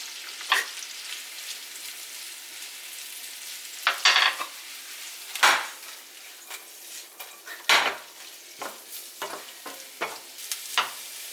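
Garlic, onion and mushrooms fry in a pan over low heat. Sharp utensil scrapes and clanks against the pan recur irregularly over a quiet, continuous sizzle, with no talking.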